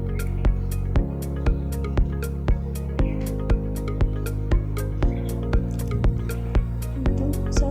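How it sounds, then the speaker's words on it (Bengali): Sauce mixed into chicken noodles with green chillies in a pan, giving wet squelching taps at a steady, regular beat over a constant low hum. "সসটা দিয়ে এখন ভালো মতো নেড়ে নিব"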